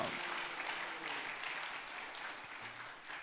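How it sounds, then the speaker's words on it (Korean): Church congregation claps in thanks during a Korean sermon, a soft, distant patter of applause fading over a few seconds. "박수 한번 올립시다."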